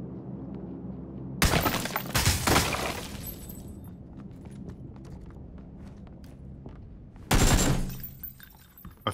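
Red zone bombardment in PUBG lands as two heavy, close blasts about six seconds apart, each a loud crashing burst trailing into rumble, with scattered crackling debris between them and no talk.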